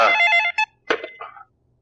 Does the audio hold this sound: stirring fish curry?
no